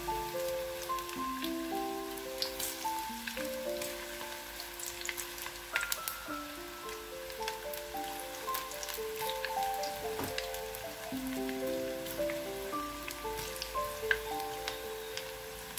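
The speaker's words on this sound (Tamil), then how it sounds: "எண்ணெய் நல்லா காஞ்ச உடனே பக்கோடாவை போட்டு எடுத்துடலாம்." Pakoda batter frying in hot oil, a steady dense crackling sizzle that carries on throughout, close and even, with no talking.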